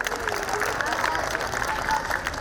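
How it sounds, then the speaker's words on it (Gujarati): A crowd at a primary school cultural program on Republic Day claps for a prize winner, with steady, moderately loud applause mixed with a murmur of voices. "પહેલું ઇનામ જેણે લીધું હોય એના માટે તાળીઓ બહુ વધારે ઉગાડવી પડે"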